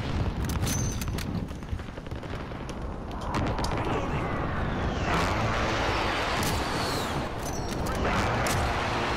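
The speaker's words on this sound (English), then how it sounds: "Enemy precision airstrike, take cover!" Precision airstrike explosions in Call of Duty: Modern Warfare, a sustained roar of heavy blasts and rumbling booms with scattered gunfire, loud and continuous for several seconds.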